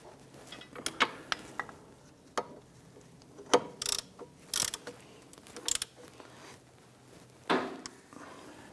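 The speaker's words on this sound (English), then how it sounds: "grab our ratchet and snug those down. And go ahead and snug down our caliper bracket bolts" Ratchet snugging caliper bracket bolts on a front brake job on a 2011-2021 Jeep Grand Cherokee, giving scattered sharp metallic clicks and short bursts of ratcheting in an otherwise quiet garage, with no talking.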